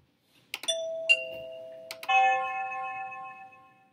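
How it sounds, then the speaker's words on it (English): A SadoTech Starpoint wireless doorbell receiver plays a newly selected chime: a few short electronic tones, then a longer ringing multi-note melody that decays slowly, clear and near in a quiet room. "First, let's pair our products and also change the chime."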